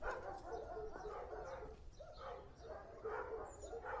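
A pet dog in a domestic scene gives a run of short barks mixed with whimpers and yips, fairly close, over a steady background hum.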